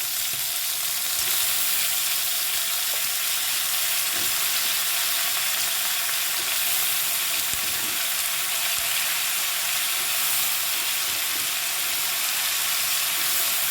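Washed chana dal frying in a pan for putnala-style chutney gives a steady, even sizzle with a soft hiss, close and continuous throughout, with no voices over it.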